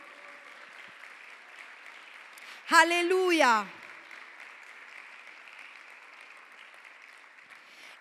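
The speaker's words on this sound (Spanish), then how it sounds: "Denle un fuerte aplauso al Señor." A church congregation applauds in a steady, even patter that runs throughout, while one voice briefly calls out over it.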